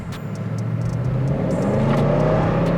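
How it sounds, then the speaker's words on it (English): A heavy luxury vehicle's exhaust roars loudly and close as it accelerates, the engine note climbing steadily in pitch with no talking over it. "And the exhaust sounds wonderful."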